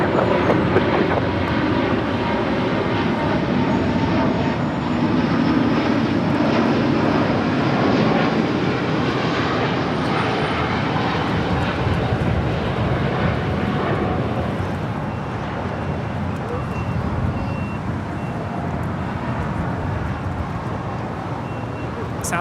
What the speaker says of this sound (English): 5329 now flying over the 110 freeway.